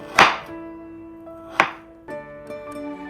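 A knife cuts fruit for a fruit salad on a board, giving three sharp knocks spaced about a second apart, each followed by a ringing, tonal resonance, close and fairly loud with no talking.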